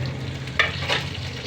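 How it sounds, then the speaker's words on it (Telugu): Tempering spices sizzle and pop in hot oil for the Telugu dish telagapindi ponnaganti kura, a steady close frying crackle with a brief sharp spatter. "పోపు వేగుతుంది, పోపు కూడా బాగా వేగి చూడండి అమ్మ, ఇలా వేగాలి."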